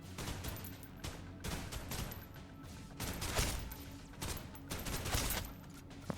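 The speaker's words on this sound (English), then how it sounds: "I'm gonna shoot you in the head now." Rapid bursts of automatic gunfire while shooting enemies in the video game Snowbreak: Containment Zone, loud repeated volleys separated by short pauses.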